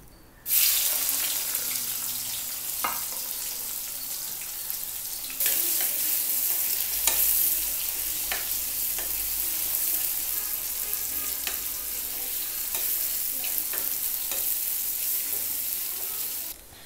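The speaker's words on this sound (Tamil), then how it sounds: "நீளமான நறுக்குன 2 வெங்காயத்தை சேர்த்துக்கலாம்." Sliced onions frying in hot oil in a kadai with mustard seeds, cumin, urad dal and asafoetida, a steady loud sizzle with occasional stirring scrapes, close up and without speech.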